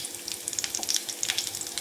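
Mustard seeds frying in hot oil for a South Indian lunch dish, a close crackling sizzle with rapid tiny pops scattered through a brief moment.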